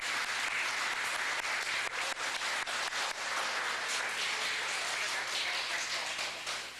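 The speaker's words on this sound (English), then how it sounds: "Let's give them a round of applause, please." Parents and guests at a Cub Scout pack Blue and Gold banquet applaud Webelos scouts receiving badges, a sustained wash of clapping with a few sharper individual claps standing out.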